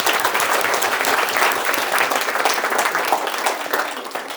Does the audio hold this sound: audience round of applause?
yes